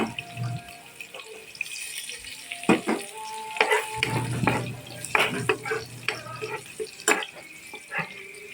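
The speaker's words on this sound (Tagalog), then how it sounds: "Mainit na mantika. Pwede na natin ilagay ang bawang." Garlic dropped into hot cooking oil for a Filipino shrimp-in-coconut-milk dish, sizzling with bursts of crackle and clinks of stirring, with faint water running in the background.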